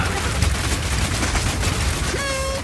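Rapid gunfire in a Path of Exile video game trailer: a dense, continuous stream of loud shots with no gaps, ending in a thin ringing whine.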